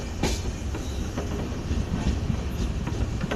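The 20492 Sabarmati–Jaisalmer SF Express passenger train runs on rails near Mokalsar in the early morning, giving a steady, close, loud rumble with faint rhythmic wheel clicks throughout and no talk.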